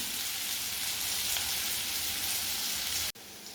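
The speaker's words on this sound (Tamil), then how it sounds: "இதை நம்ம இந்த எண்ணெயிலேயே நல்லா வதங்க விடுவோம்" Pirandai (veldt grape) sautés in oil in a pan, giving a steady, even sizzle and crackle at moderate closeness, continuous and unbroken until a brief cut near the end.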